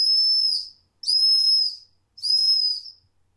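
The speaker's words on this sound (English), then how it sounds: "This has a whistle at the end of the fire steel." Three shrill, piercing blasts from a small whistle on the end of a multitool's fire steel, each about half a second to a second long, separated by brief silences, loud and close.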